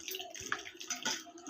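Mushrooms being rinsed in turmeric water in a home kitchen make soft sloshing and dripping splashes, faint and close, with a brief murmur of voice.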